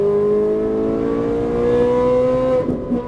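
A Ferrari 458 Italia's engine pulls hard under throttle with a loud, rising high-pitched roar heard from inside the car, shifting and breaking up near the end.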